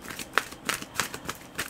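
A deck of cards is riffled and tapped in a loose gambler's shuffle, giving soft papery flutters and a few sharper snaps in an irregular rhythm, quiet and close by with no talking.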